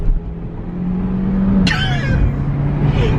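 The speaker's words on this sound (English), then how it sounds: "This car's so fast!" A Mazdaspeed 6 drives with a steady, loud engine drone and road noise from inside, with a brief high squeal partway through.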